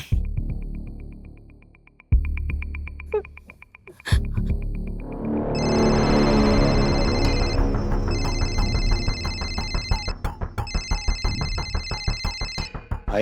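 A telephone rings inside a house, its electronic ringtone repeating in bursts over dramatic background music and sound effects, loud and near, with no talking.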